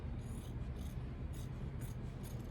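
Scissors trimming cutaway embroidery stabilizer close to the stitching on a knit garment, a steady close-up rasping and rubbing of blades through fabric that continues without pause and without talk.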